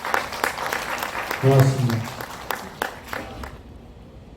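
Myongji University students applaud in a lecture hall after a sung rendition of Arirang, a burst of clapping mixed with a speaker talking over it, then fading.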